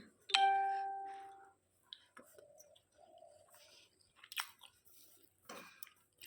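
Someone chews a mouthful of boiled ration rice and boiled potato, with soft, close, irregular mouth sounds, a brief ringing electronic tone near the start and faint background noises.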